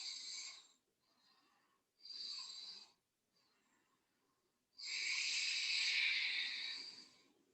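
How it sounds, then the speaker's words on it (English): Ujjayi yoga breathing during a Hatha class, a raspy throat-constricted hiss in three audible breaths, two short ones then a longer drawn breath, close and steady with quiet gaps between. "continue to breathe Ujjayi"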